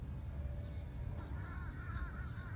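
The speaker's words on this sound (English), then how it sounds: "Active crows." Several crows caw outdoors at dusk in New England, a few hoarse calls from a moderate distance over steady wind-like background noise.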